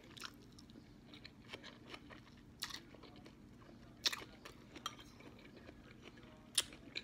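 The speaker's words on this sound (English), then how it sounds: "I'm eating so many onions" Raw onions being eaten up close, with scattered crunchy bites and wet chewing sounds, a few sharper crunches standing out over a low steady background hum.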